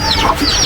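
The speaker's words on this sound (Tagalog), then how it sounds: "Yan ang manok na ulikba." A black-boned ulikba chicken clucks close by, a short pair of throaty calls.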